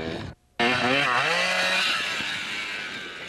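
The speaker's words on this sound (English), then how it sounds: "Revving a little bit too high." Kawasaki KDX dirt bike engine revving hard with a raspy two-stroke howl, pitch climbing and wavering during a backyard ride, loud and close after a brief cutout, then settling into a steady high drone.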